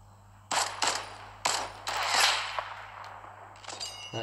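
Sniper rifle fire in a video game: several sharp, loud shots at uneven intervals, with ringing tails and a low steady hum underneath.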